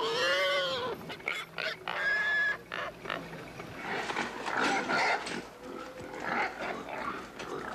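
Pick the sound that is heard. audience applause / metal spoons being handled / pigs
pigs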